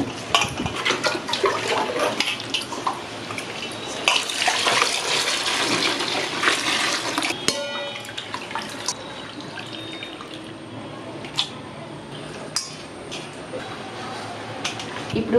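Tap water runs steadily over raw prawns as they are rinsed clean, a continuous splashing gush with occasional sharper spatters and knocks against the bowl.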